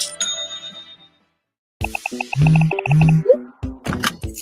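A run of bright, quick phone notification dings and chimes follows a fading tone and a short silence, stacking up rapidly and close by, with a few louder clicks toward the end.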